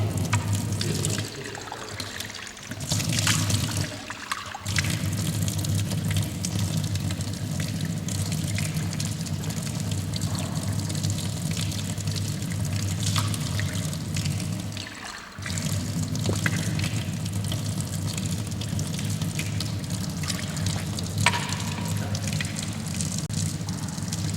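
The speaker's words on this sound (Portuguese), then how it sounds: "Abre a torneira e enche o copo." Water from a tap runs steadily into a glass for about twenty-four seconds, a continuous close splashing trickle with a couple of brief dips and a low background hum, with no talking.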